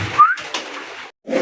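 A pair of yellow tail-marked pigeons at a pigeon farm gives a short burst of cooing and whistle-like calls lasting about a second, close and fairly loud, then breaks off briefly before the calls resume.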